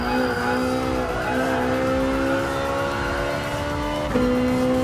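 A Renault Sport Megane races in the Gran Turismo Sport video game, its engine holding a loud, steady droning note that climbs gradually before one sharp gear shift, with no voices.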